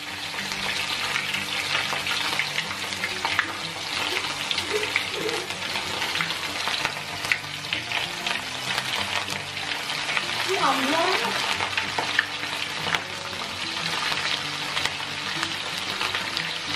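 Balinese pork sausage (urutan) fries in hot oil with a steady, crackling sizzle running throughout, while people talk intermittently over the cooking.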